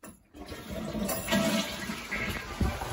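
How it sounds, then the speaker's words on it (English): A toilet in an off-grid cabin supplied by a shallow well pump flushes with a sudden rush of water, then settles into a steady swirling and refilling sound at moderate level. "Let's try flushing the toilet"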